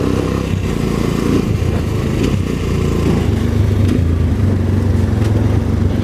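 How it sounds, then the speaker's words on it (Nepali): Bajaj Dominator 250 motorcycle with a double exhaust, its engine running with a loud, steady, close rumble that holds at a constant drone throughout, without distinct revving or pauses. "बाइकको साउन्ड चाहिँ अति लाउड छ है गाइज"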